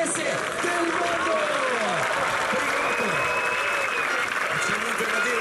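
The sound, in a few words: applause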